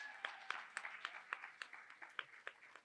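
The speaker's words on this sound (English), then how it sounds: "A round of applause, please." Quiet, rhythmic clapping at a school poetry recitation finals event as a judge is introduced, a small group of hands beating in steady time, faint and distant.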